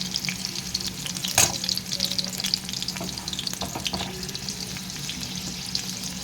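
Onions frying in oil in a wok for a shrimp and yardlong bean mash, a steady close sizzle with occasional stirring scrapes, no talk.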